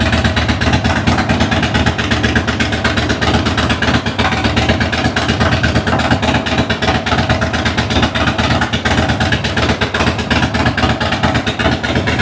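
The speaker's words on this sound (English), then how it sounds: "It does start up fine. It idles good." A 2006 Harley-Davidson Dyna motorcycle with a rear cylinder that cuts out idles steadily, a loud, close, even lumpy engine rumble throughout with no talk.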